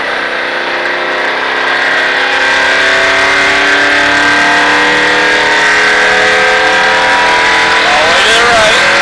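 Race car on a track at the Richard Petty Driving Experience, its engine held at high revs and climbing steadily, loud and close with a rising whine through the whole stretch.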